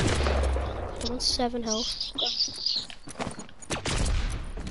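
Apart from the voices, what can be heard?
gunfire in video game Fortnite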